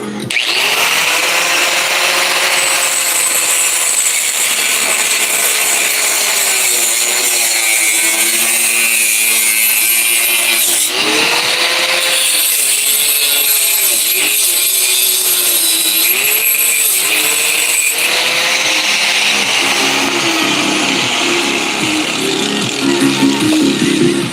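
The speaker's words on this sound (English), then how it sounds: "I'm going to use the grinder, guys. It's going to get loud for a moment, so cover your ears." A power grinder runs in a home garage, a loud continuous whine with shifting pitch as the load changes, close up and sustained for the whole stretch.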